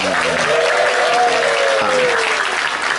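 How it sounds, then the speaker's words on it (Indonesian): A crowd at a religious gathering applauds the sound engineer in a loud, continuous wash of clapping, with a voice running over it. "tepuk tangan untuk tukang son"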